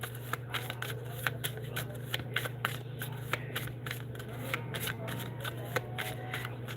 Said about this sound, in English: Now we're gonna go to pulling some cards for you guys.